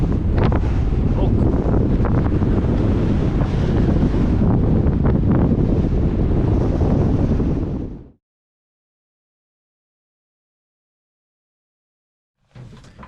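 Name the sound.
strong wind at sea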